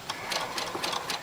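A sewing machine stitches through wrapped clothesline cord for a rug, its short rhythmic bursts of needle chatter repeating about every quarter second, close and steady with no talk.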